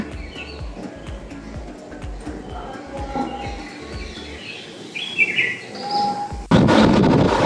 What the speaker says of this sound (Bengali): পাখি ডাকছে।